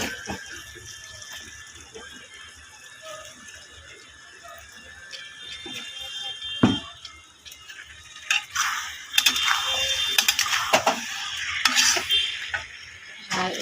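Eggplant and potatoes drop into a hot pan for a Bengali curry and are stirred, with sizzling frying noise rising in the second half and scraping stir strokes up close.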